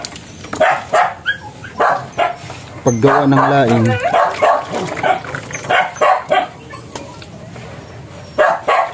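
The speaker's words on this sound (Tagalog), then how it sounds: "Ang mga aso dito, pag nag-vlog ako, ang ingay ng mga aso." Dogs bark repeatedly in a rural home kitchen during cooking of laing, a run of sharp barks and yips with a longer whining howl, fairly near and mixed with a person talking.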